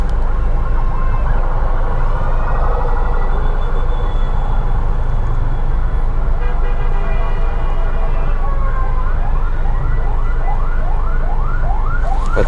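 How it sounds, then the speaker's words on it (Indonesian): An ambulance siren wails repeatedly over steady rush-hour traffic rumble in Jakarta, its rising yelps speeding up into a rapid pulsing pattern toward the end. "Ada suara sirene dari mana tuh?"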